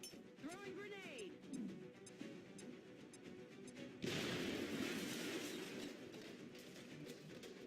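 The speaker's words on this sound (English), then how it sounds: "Throwing grenade!" A grenade blast in XCOM sounds halfway through as a sudden loud burst that fills out into a rumbling, crackling wash. Earlier there are scattered light clinks and a brief warbling tone, with a voice speaking.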